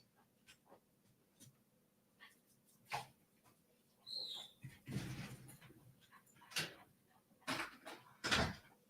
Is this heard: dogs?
yes